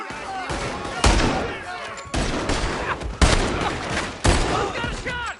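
Gunfire in Red Dead Redemption 2, four heavy, close shots spaced about a second apart, each booming blast trailing into echoing rumble.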